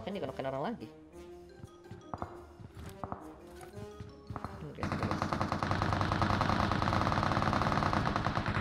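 Video game gunfire in PUBG Mobile: scattered single shots and short bursts early, then a dense, loud automatic-weapon stream from about halfway on, with players talking over it.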